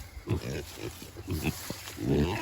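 Pigs grunt and snuffle in straw bedding on a farm, a series of short, throaty grunts in uneven bursts close by.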